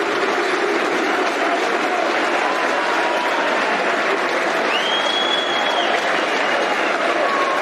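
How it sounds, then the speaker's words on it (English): A football crowd at Millwall's ground applauds as substitute Tom Bradshaw comes on against Nottingham Forest, loud, dense clapping from the stands that fills the whole span alongside a broad roar of crowd noise. "Good applause."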